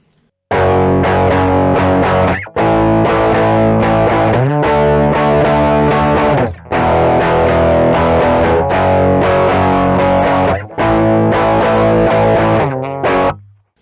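A heavily distorted electric guitar bashes out loud, driving chords in bursts with brief pauses, finishing on a final ringing strum.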